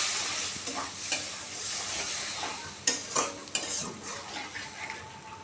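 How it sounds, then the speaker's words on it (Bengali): Spice paste fries and is stirred in a pan with a little water, a continuous sizzle broken by scraping and clinks of the spoon, a few sharper knocks partway through, close and moderately loud, with no voices. "মশলাটাকে কষিয়ে নিতে হবে।"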